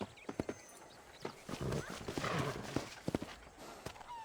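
Horse hooves clip-clop at a walk in the Western video game Red Dead Redemption, with an uneven rhythm of clear, fairly close hoofbeats and a whinny mixed in, heard over game ambience.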